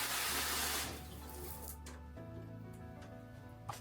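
Water bursts from a fine mist shower head in a bargain hotel bathroom near Tokyo Station, a loud hiss that settles into a steadier, quieter spray with a faint hum beneath.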